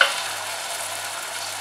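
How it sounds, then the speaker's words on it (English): Chopped tomatoes going into sizzling onions and ginger garlic paste, a loud, steady, close frying hiss that carries on evenly after a brief initial burst, with no talk. "Next I'm going to add tomatoes,"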